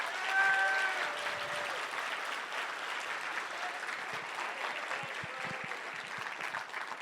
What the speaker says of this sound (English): So please give them all a huge round of applause.